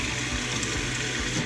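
Water rushing steadily through the plumbing lines of an Airstream trailer during sanitizing, a continuous close hiss with low gurgling underneath and no talk.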